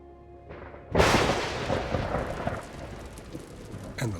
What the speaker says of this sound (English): Massive cumulonimbus clouds form over the rim, creating thunderstorms and lightning.